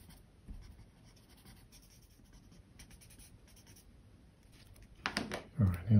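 Hand coloring of a Halloween monster drawing with a marker or pencil, soft steady scratchy strokes across paper throughout, ending in a few louder bumps and rustles.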